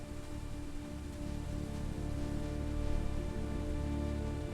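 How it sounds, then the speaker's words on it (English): Steady jungle rain falling and beginning to ease, a dense, even patter on the surrounding surfaces that continues for the full stretch with no voices. "The rain is easing up."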